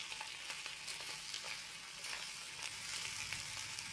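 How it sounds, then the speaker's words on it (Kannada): Pav bhaji ingredients fry steadily in a pan, a soft continuous sizzle with occasional stirring scrapes, fairly quiet and close, with no talking. "ಎಲ್ಲ ಚೆನ್ನಾಗಿ ಫ್ರೈ ಆಗಬೇಕು."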